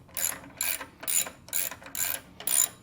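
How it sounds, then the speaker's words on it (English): A socket ratchet on a long extension snugs up bolts while a trailer tongue box is installed, giving six quick bursts of bright clicking spaced about half a second apart, close and moderately quiet with no talking. "I got a socket with a really long extension on. I'm gonna just snug everything up real quick"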